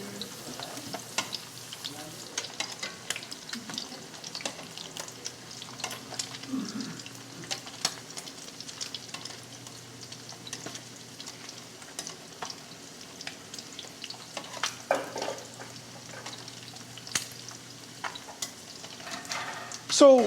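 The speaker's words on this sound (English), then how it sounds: "The oil's hot, you're making the food jump." Food sautéing in hot oil in a pan for a pesto dish, a steady low sizzle with scattered pops and stirring clatter running throughout, fairly quiet and close, no one talking.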